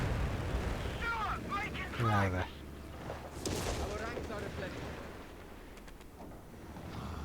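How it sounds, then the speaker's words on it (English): Cannon fire and explosions in the Company of Heroes 3 strategy game, heavy booms and blasts under a busy battle din, with a voice shouting partway through. "that cannon, and it's moving to keep firing at me"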